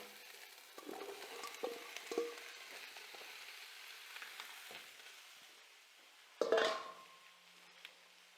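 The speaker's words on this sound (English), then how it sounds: "So I'm going to go ahead and add the zucchini to these onions." Zucchini dropped into onions frying in a pan: a steady soft sizzle with light clinks and stirring scrapes, and one louder clatter of the vegetables going in near the end.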